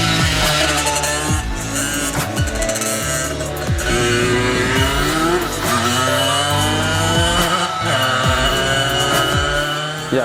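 Small converted supermoto moped with a wide rear tyre being ridden, its engine buzzing and revving hard in repeated rising and falling bursts up close.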